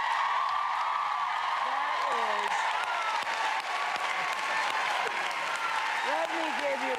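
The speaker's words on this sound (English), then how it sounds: "Let me give you a round of applause." Studio audience applause on a home-makeover talk show, a steady broadband wash of clapping sustained throughout, with voices talking and exclaiming over it.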